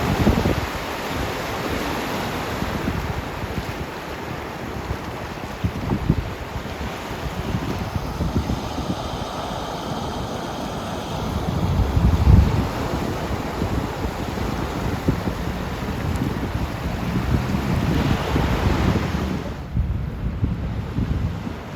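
Ocean surf and wind at Narragansett Beach in January: a constant, full-bodied wash of waves and gusty wind buffeting the microphone, swelling now and then, with no voices.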